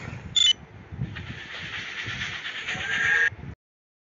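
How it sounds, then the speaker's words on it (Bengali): A train in the video game Death Park 2 starts and runs, a whistle-like tone at the start followed by a rising mechanical rumble and hiss that swells, then cuts off abruptly into silence. "আমি ট্রেন চালু করে দিয়েছি"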